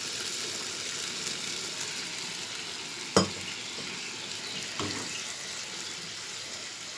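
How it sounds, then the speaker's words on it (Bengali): A little water poured into a sizzling pan of egg curry: a steady fry hiss, one sharp splash, then a fainter one as the sizzle carries on. "এবার অল্প একটু জল দিয়ে দিই, বেশি দেবো না, কালিয়া তো মাখা মাখা হবে।"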